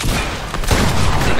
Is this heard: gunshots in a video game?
yes